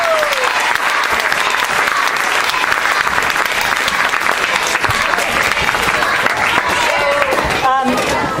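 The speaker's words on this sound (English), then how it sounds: "give another round of applause for Miss Noll" Dense, sustained applause from a seated audience at a school presentation about a creek, a continuous wash of many hands clapping at full volume with a few brief vocal sounds near the end.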